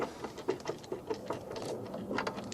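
A torx screw on a Renault Scenic III rear tail light is turned out with a driver, producing a run of small quiet ticks and ratcheting clicks at an uneven pace, close and faint, with no talking.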